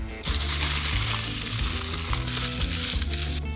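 Pork ribs cook on a charcoal grill over low heat, giving a steady, close, bright sizzle that holds evenly throughout.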